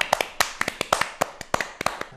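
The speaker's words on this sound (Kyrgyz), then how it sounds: "Кол чабуулар болсун." On a Kyrgyz TV talk show a small studio audience gives brief, sparse applause as a guest is introduced. About a dozen distinct, sharp claps sound close by, with no talk over them.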